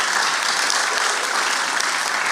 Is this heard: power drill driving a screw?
no